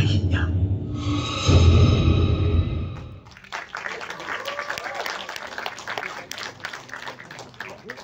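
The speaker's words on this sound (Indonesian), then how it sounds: "Tepuk tangan sekali lagi teman-teman" An audience at a film trailer screening breaks into loud applause that fades into scattered, lighter clapping, with a crowd murmur beneath.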